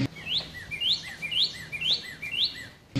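Five crisp, upward-sweeping bird chirps come in a regular rhythm, each paired with a softer lower note, with faint background hum.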